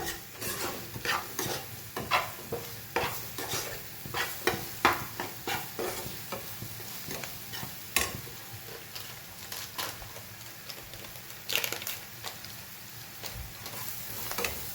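Food in a pan stirred and mixed with salt added, giving a rhythmic run of spoon scrapes and taps against the pan over a light sizzle, close but fairly quiet, with no voices.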